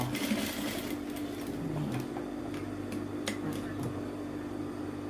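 A sewing machine runs continuously at close range, stitching a hidden zipper into linen with a steady whirring hum and faint ticking; no one speaks.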